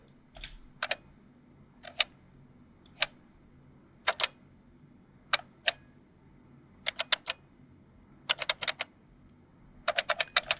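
Sharp mechanical click effects arrive alone over a faint hum, as single snaps and quick clusters of two to five ticks spaced irregularly, crisp and close.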